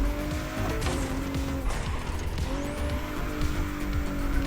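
Car tires spin and squeal in The Crew Motorfest racing game, engine droning steadily as rising and sliding squeal tones come and go through repeated wheelspin.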